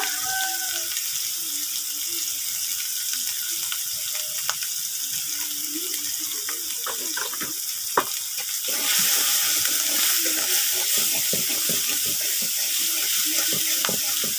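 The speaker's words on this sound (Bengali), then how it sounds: "ভালো করে মশলাটা কষাবো।" Spices sizzling in a pan with salt and turmeric while being cooked down for a curry of fresh fish. The hiss runs steadily throughout and grows louder and fuller about two-thirds of the way in.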